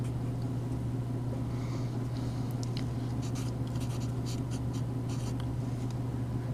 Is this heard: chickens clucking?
no